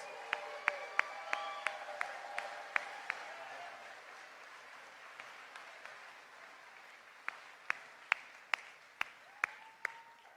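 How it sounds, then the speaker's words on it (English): Scattered, fairly faint hand claps from an audience at a political rally speech in Southern Nevada, with sharp individual claps sounding over a low murmur of crowd noise. "Let's give them a round of applause for everything they do and all of those who help us."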